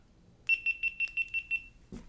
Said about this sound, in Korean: 전원 버튼을 살짝 눌러주면 삐삐삐 소리가 나면서 전원이 켜지고요